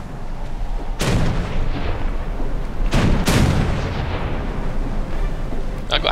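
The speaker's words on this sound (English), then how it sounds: "I'm just gonna take a random shot and see if I can hit someone" Naval gunfire from a warship in War Thunder: a heavy boom, then a pair of booms in quick succession a couple of seconds later, loud over constant engine and sea noise.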